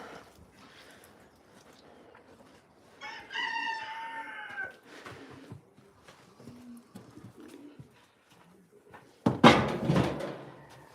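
Poultry calls, a clucking and crowing burst, stand out midway over quiet background shuffling, followed by a loud close knock or handling noise near the end.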